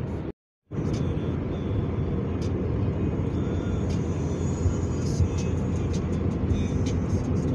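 Steady road traffic in Doha, Qatar, a continuous broad rumble of passing cars heard from close by, with a short dropout near the start; a voice speaks over it.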